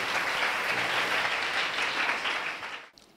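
Congregation applauding during a church worship service, a dense, steady patter of many hands clapping together that carries on for nearly three seconds, then stops abruptly.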